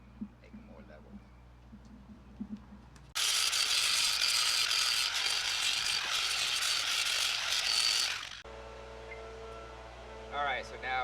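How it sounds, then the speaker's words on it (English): Wooden stool legs being ground down to level them, a loud, steady abrasive roar that starts abruptly, runs about five seconds and cuts off, with quieter workshop noise before and after. "I grind them down a little bit to make them more level."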